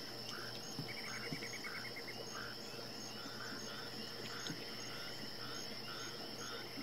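Frogs, crickets and bullfrogs calling at night in The Hunter Classic hunting game, a constant insect trill with repeated pulsing frog croaks over a steady low hum.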